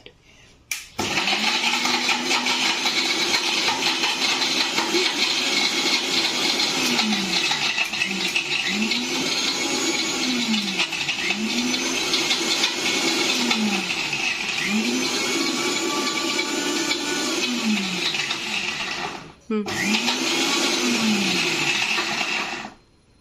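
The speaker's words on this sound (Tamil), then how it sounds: "நான் மிக்ஸி ஆன் பண்ணுறேன்." A mixer grinder whirs steadily while blending a chocolate milkshake, loud and continuous with a rhythmic churning wobble, pausing briefly near the end before starting again.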